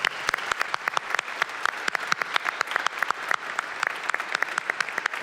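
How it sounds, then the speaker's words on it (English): An audience applauds a foundation's board of directors at a Feast of Our Lady of the Angels event, with a steady round of scattered, crisp claps lasting throughout. "Let's give a round of applause."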